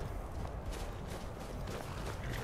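Horse hooves in the Skyrim video game, a muffled, continuous clip-clop of trotting steps under a noisy game backdrop.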